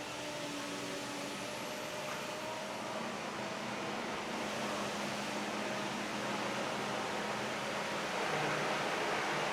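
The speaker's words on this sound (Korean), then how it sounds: "이 상태에서 이제 악셀을 누르면 청소가 시작되고 전진하면서요." An IPC CT110 floor scrubber runs while driving forward and cleaning, giving a steady, loud broadband whir of brushes and vacuum motor that continues unbroken throughout.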